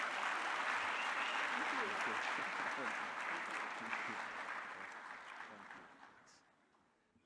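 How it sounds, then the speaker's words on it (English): Audience applause at an opening ceremony, a dense, steady wash of many hands clapping that holds loud for several seconds, then thins and fades toward the end. "Another round of applause to the partners."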